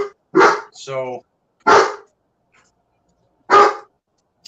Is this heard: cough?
no